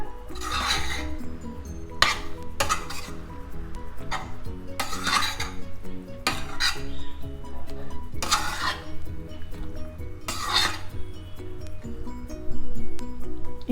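Masala pasta being mixed with sauce in a pan, heard as about half a dozen bursts of metal spoon scraping and clinking against the pan with quieter pauses between.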